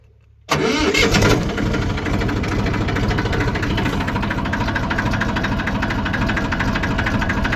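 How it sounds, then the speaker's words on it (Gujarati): A tractor engine starts for ploughing a village field, catching abruptly after a short quiet moment and then running loud and steady with a dense, rumbling, slightly knocking idle throughout. "આપણને ખેતર ખેડવાનું છે વડા ટ્રેક્ટરથી"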